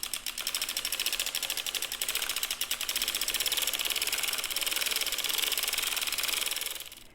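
Steady rapid clicking and clattering of a hand-cranked sock knitting machine cranking leg rows, an even mechanical rhythm that runs continuously for about seven seconds, close and moderately loud, with no voices.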